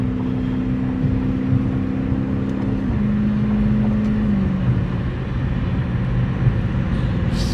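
Dodge Challenger SRT 392 cruising on a highway, its engine giving a steady loud drone with a slight pitch drop partway through, mostly constant rather than sharply revving, with no voices.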